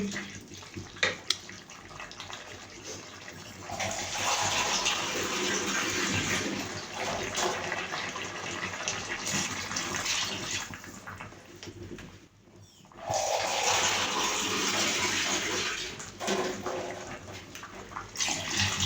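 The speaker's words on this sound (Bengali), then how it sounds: "এখন আমি পানি দিয়ে দেবো" Water poured into a pan of boiled flat beans for a fish curry, a long loud steady gushing pour that breaks off briefly midway and then resumes, with no voice over it.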